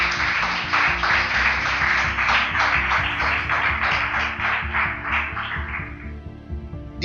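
A church congregation applauds together, a steady wash of clapping that holds for several seconds and then fades out toward the end.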